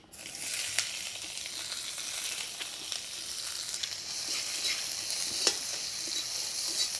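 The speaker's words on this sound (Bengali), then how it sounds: "কিছুটা সরিষার তেল দিয়ে দিব কালো জিরে আর সাদা জিরে এবারে দিয়ে দিব পেঁয়াজ কুচি" Chopped onion sizzles with black and white cumin in mustard oil in a hot pan, a steady, close frying hiss with occasional sharp crackles and faint stirring, no voices.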